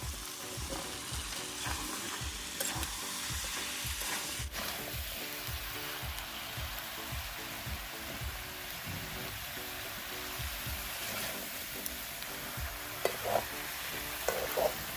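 Chunks of potato and calabash fry with chicken skin curry in a pan, making a dense, steady sizzle with a rhythmic low stirring scrape through most of the stretch and occasional clinks near the end. No voices.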